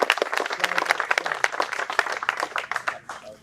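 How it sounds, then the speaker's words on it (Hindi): Students in a classroom clap loudly together, a dense burst of many hands with a strong uneven rhythm that rises and then gradually thins out toward the end. "एक बार सबसे ज्यादा जोर से तालियां बजाओ"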